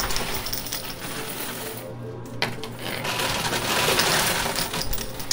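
Quarters drop and clatter in a high-stakes coin pusher machine, a busy stream of metallic clinks and mechanical whirring, briefly pausing before a louder rush of tumbling coins.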